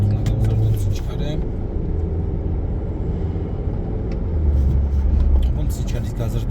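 Car driving along a road in Rustavi, engine rumbling steadily under continuous talking, with a moderate low drone that swells slightly near the end as it picks up speed.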